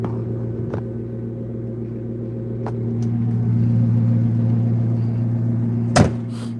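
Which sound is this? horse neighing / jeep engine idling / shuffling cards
jeep engine idling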